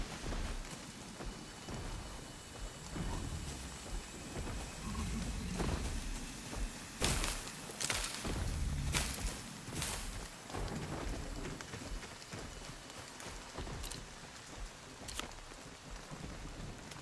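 Steady rain falls in the survival video game Nightingale, a continuous broadband hiss with a few louder gusty swells midway, heard alone without voices.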